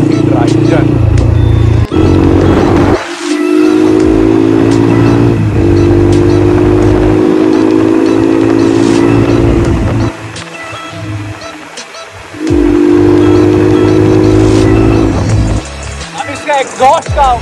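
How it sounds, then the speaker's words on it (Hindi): Exhaust of a motorcycle running a Bajaj Platina engine, a loud steady drone rising and falling through repeated revs, with brief dips near the middle before it picks up again. "एग्जॉस्ट का वॉइस बहुत प्यारी आती है, बहुत नेक्स्ट लेवल आती है यार।"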